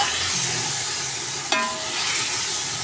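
Potatoes with spices are stirred in a pan for aloo pulao, a steady close sizzle with scraping stirring and a brief sharp clink partway through.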